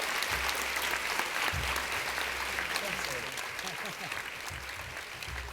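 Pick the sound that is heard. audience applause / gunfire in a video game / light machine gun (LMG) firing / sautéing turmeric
audience applause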